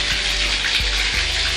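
Water runs steadily from a new tub spout after a valve replacement, a continuous loud gushing rush into the bathtub with faint low thumps, no voices.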